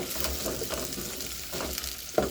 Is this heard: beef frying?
yes